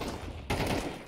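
Gunfire in Counter-Strike rings out as a dense burst of rapid shots, loud and close, with a sharp louder onset midway and no voices.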